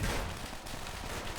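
Shotgun fire in Call of Duty: World at War, a dense loud blast with a rumbling low tail filling the short moment of battle noise.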